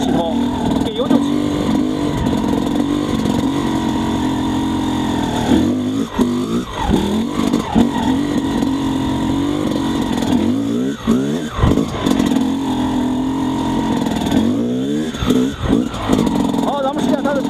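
An XTNG GEN3+ 36 motorcycle pulls away in first gear without the clutch, its engine buzzing steadily with repeated rising revs and throttle blips, close and loud, while a rider talks over it.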